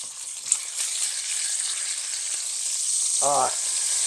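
Bacon sizzles and crackles steadily in a frying pan, a dense close hiss lasting throughout with a sharp pop near the start and a brief tonal squeak toward the end, no talking.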